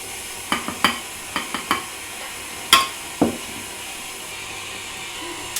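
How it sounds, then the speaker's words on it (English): Buttermilk and flour are mixed into cupcake batter in a bowl, heard as a run of short scraping, tapping strokes, close and fairly loud, bunched in little bursts with short pauses and no voices. "Buttermilk and flour in sort of about a third at a time in alternating increments until it's all mixed."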